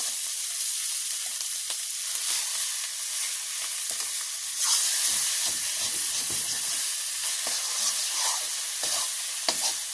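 Bottle gourd with green chilies frying in a pan, a steady close sizzle and hiss with occasional stirring scrapes throughout, no talking.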